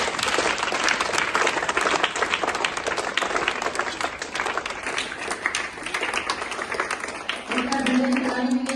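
A gathered audience claps together, a busy, continuous patter of many hands at close range that holds steady, with a brief tonal sound rising near the end.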